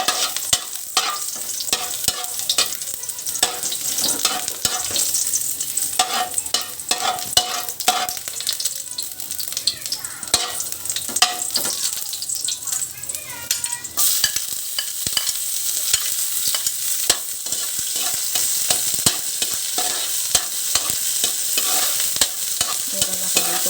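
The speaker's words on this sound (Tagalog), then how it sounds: "Magluto tayo ng gisa-gisa lang" Squash, okra and eggplant sautéing in a pan for pakbet with pork cubes and tomato: steady loud sizzling with constant stirring and utensil scrapes, close, continuous, no talk.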